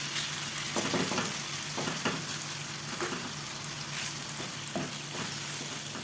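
Marinated chicken frying with garlic in a pan, a steady close sizzle with a few scattered scrapes and stirs, moderately loud and without speech.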